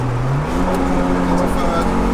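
A turbo-swapped 300bhp Vauxhall Astra GTE pulling hard in second gear, its engine note rising steadily from inside the car while someone talks over the sound.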